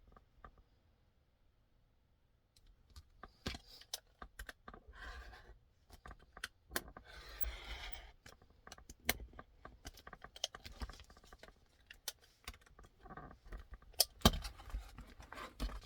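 Scissors cutting vinyl pattern pieces for a handbag, heard as a run of close, sharp clicks and snips in irregular bursts after a quiet start, with some rustling of the material between cuts.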